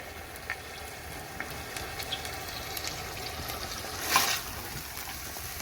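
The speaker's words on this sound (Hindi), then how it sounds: "5-6 मिनट इसे ऐसे ही भूनेंगे।" Chicken and okra frying in a pan give a soft, steady sizzle with faint stirring scrapes and a brief louder hiss partway through, all fairly quiet and with no talk.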